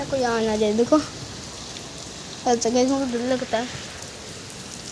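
Steady rain patters on surfaces as a constant soft hiss, while a person speaks in short bursts over it.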